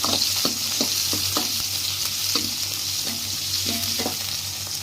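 Onions sautéing in a pan with green chillies, a steady loud sizzle broken by regular scraping strokes of a spoon, no voices.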